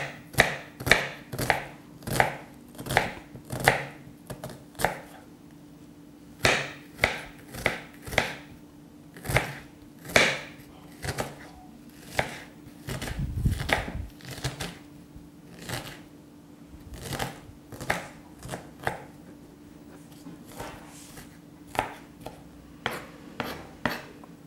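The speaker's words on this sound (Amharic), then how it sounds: "ጥሩ ቢላዋ ያስፈልጋል ማለት ሽንኩርቱን በጥሩ ሁኔታ የሚቆርጥ ማለት ነው" A knife chopping onions for Ethiopian tibs and dench wot, a long run of sharp, close, regular cuts on a board with brief pauses between bursts.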